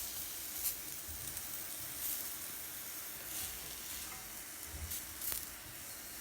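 Flipped avocado halves sizzle on a hot grill, a steady close hiss with soft crackles and a few small pops throughout.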